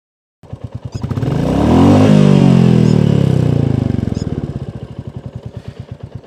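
A next-generation Royal Enfield Classic 350 motorcycle idles with a steady close-up thump, its engine revving up to a loud rumbling peak, then settling back to a pulsing idle.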